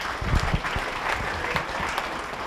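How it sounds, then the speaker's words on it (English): An audience at the Northeast Dirt Modified Hall of Fame induction ceremony claps, a short burst of scattered, moderately loud applause from a fairly small crowd. "Give yourselves a big round of applause for joining us tonight."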